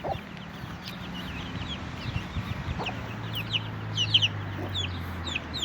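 Bresse chicks and chickens on a farm, a steady stream of high peeping and cheeping from the chicks over low clucking from the older birds, close and moderately loud, with no voices.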